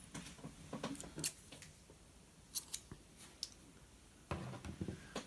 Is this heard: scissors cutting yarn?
yes